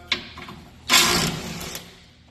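An impact wrench removes cross member bolts on a Duramax truck in a shop, giving one loud, close buzzing burst of roughly half a second between quieter clicks and handling noise.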